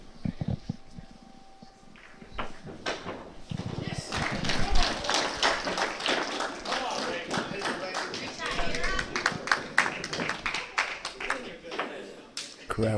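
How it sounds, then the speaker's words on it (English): An audience at a pool championship breaks into a run of fairly close, steady clapping that builds after a quiet start and carries on under a commentator's voice. "Crowd getting into it."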